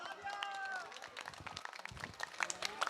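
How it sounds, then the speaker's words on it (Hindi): Brief, faint clapping from an audience at a public speech in Delhi, scattered hand claps over a few seconds mixed with crowd voices and whistles. "तालियां।"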